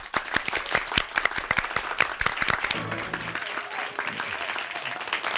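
A church congregation claps warmly to welcome a pastor's lecture, individual sharp hand claps audible within a steady wave of applause that thins toward the end, with a brief voice partway through.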